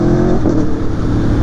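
Loud, close engine roar rising as a 2019 Aprilia Tuono V4 Factory 1100 sport motorcycle accelerates hard, a dense rasping growl filling the short burst.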